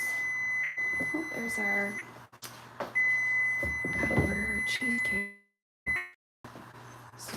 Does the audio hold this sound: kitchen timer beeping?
yes